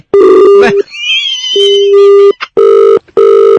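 Loud electronic telephone ring tones in repeated bursts, broken by a brief stretch of warbling chirps, close and piercing.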